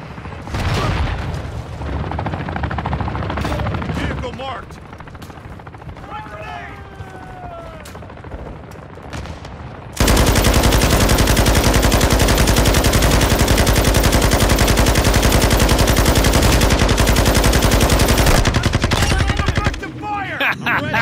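Heavy automatic gunfire in Call of Duty, a long continuous loud machine-gun burst lasting several seconds, preceded by scattered shots and game noise, with speech from players mixed in.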